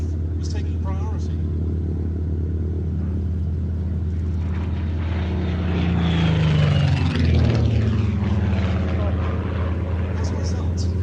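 Supermarine Spitfire Mk VB propeller aircraft, a navalised variant, droning steadily with a loud piston-engine roar that swells and shifts pitch as it passes overhead, heard alone without talk.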